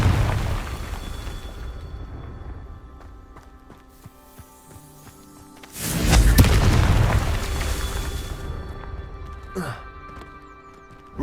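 A Confringo blasting spell explodes in Hogwarts Legacy, a loud booming burst that swells and rumbles for a few seconds over quieter game sounds, followed by a brief sharp crackle.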